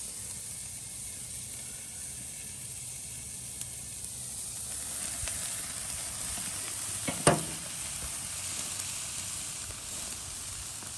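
Onions and jalapenos sizzle steadily in a frying pan, a constant close hiss with a brief scrape of stirring partway through.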